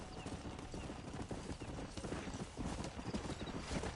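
Horse hooves clip-clop steadily in Red Dead Redemption on PS5, with a horse whinnying now and then through dense game ambience, close and fairly loud.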